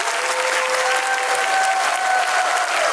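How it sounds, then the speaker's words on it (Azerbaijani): A studio audience at a televised talent-show competition claps steadily for the whole stretch, a dense, even wash of applause with a faint sustained tone running beneath it. "Mən sizi alqışlamaq istəyirəm auditoriyanın dəstəyilə."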